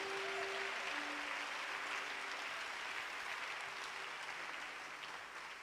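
Church congregation at an apostolic and prophetic gathering in Koforidua, Ghana, claps hands in steady, continuous applause, faint and distant with a slight fade toward the end.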